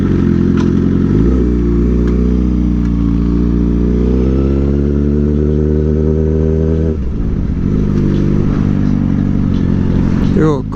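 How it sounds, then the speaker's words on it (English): Steady, loud engine rumble from an Aprilia Dorsoduro motorcycle, rising and falling in pitch as it revs, with a sharper shift about two-thirds through, and voices talking over it. "What bike is this? Oh, nice Aprilia"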